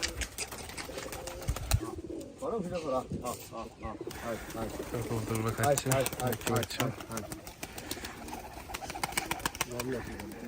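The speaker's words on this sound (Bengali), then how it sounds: "কবুতর দেখছেন অনেকগুলা কবুতর" A flock of pigeons coos steadily at a pigeon farm, with some wing flaps mixed in. Someone talks over the birds throughout.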